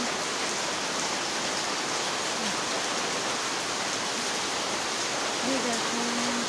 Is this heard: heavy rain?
yes